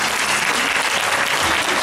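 Applause rises from the audience at a martial arts gala honouring a departmental karate team, a thick, continuous wash of clapping heard up close without any voices.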